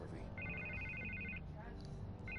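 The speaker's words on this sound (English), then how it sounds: "I can't get the phone to stop ringing." A telephone rings in the Batman Telltale video game. A quiet electronic trilling ring sounds in one burst lasting about a second, then starts again, over a low background hum and a voice.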